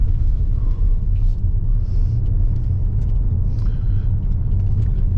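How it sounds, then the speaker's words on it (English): A Lexus RX500h F Sport AWD driving over a rough road, with a steady low rumble of tyres and road noise inside the cabin, continuous and fairly loud, with no talking. "Even on rough roads like this, the RX continues to deliver a very comfortable ride."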